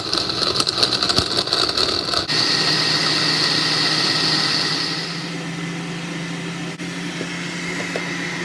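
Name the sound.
blender blending ginger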